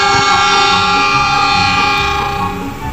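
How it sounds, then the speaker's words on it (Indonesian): Indonesian train passing very close to the trackside, a loud engine roar with sharp squealing rail friction and a sustained horn-like tone that fades slightly toward the end. "Kita bisa mendengarkan suara mesin kereta api dan juga gesekan dari rel kereta api yang sangat keras"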